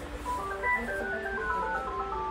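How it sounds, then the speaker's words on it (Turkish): A telephone rings with an electronic ringtone, a stepped melody of clear tones played moderately loud and close, continuing without pause and with no voices over it. "Telefon çalıyor."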